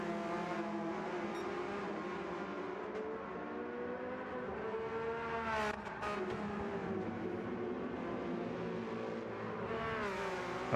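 Race cars at speed in an online GTE sim race, a sustained engine whine with gear shifts and rising and falling revs, loud and continuous without talk.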